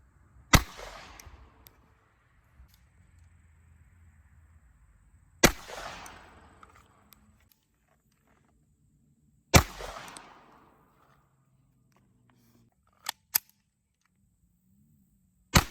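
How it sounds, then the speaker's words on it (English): Three sharp .22 LR gunshots fired into cement ring out several seconds apart, each a loud crack with a short decaying tail. A few lighter clicks follow near the end. "fire the 3 slowest rounds first up at the top, then the next 2 fastest right here"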